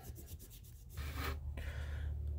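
Short scrubbing and rubbing strokes work crusty buildup off the shifter track in a 1998 Jeep ZJ interior, close up and fairly quiet, two or three rasping passes with no talking.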